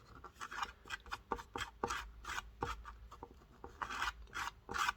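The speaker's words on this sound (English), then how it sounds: "rub the whole thing down" Sandpaper rubbing down a plastic-welded engine cover by hand, quiet rhythmic rasping strokes repeating in quick irregular passes, close and alone.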